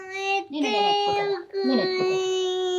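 A young child cries close by during an at-home interview, letting out sustained, tonal wails in two long bursts separated by brief catches of breath.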